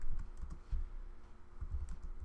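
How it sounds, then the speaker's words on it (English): Keys tapped on a computer keyboard during data entry in spreadsheet software, a series of soft, irregular clicks at close range over a low background hum, with no talking. "I'm going to just type in events as the name"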